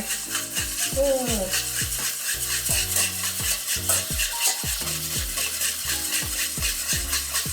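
Olive oil being stirred and whisked by hand into homemade mayonnaise to emulsify it, a steady scraping and sloshing against the bowl, with close voices and exclamations mixed in throughout.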